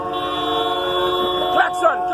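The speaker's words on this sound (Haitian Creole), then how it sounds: "Klaxon, toute machine klaxon net." Vehicle horns sound during a street protest by funeral home owners against kidnappings, one long sustained horn blaring loud and close, then shorter honks joining in as voices shout over them.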